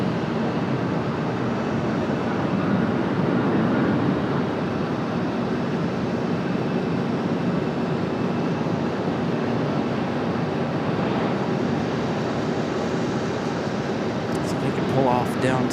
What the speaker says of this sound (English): So the 767 here will go full length all the way down to the end of the runway.